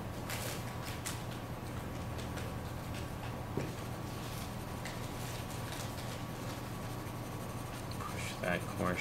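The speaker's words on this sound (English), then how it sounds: "this 2H pencil is that, it's so much harder that I can make the really fine hatch marks a little more clearly" Fine hatch marks made with a hard 2H graphite pencil on drawing paper during a cast drawing, heard up close as a steady run of dry, scratchy strokes over a low constant hum.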